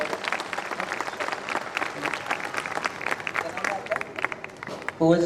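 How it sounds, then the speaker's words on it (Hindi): Loud, dense applause from a school audience at an annual function, honoring a girl, continuing steadily throughout before a voice briefly speaks near the end. "एक बार जोरदार तालियां बजाएं बिटिया के लिए।"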